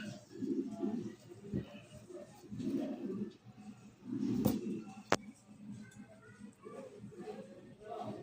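Soft, low coos of fancy pigeons for sale repeat in short bursts, mixed with a few sharp clicks and background noise.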